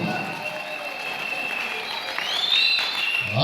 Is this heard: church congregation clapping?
yes